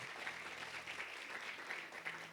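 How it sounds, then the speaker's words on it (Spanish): Faint, distant applause from a church congregation during a Christian sermon, soft continuous clapping at low level with a steady low hum underneath. "Así que regálale un aplauso nuevamente al Rey de Reyes y Señor de Señores."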